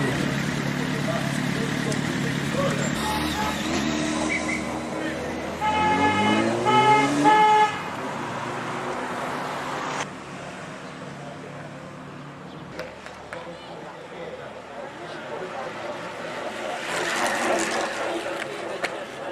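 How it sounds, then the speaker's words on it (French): An accompanying car at a cycling time trial idles and gives several short horn toots, with people talking nearby over the engine hum and road noise. "C'est la voiture qui accompagne"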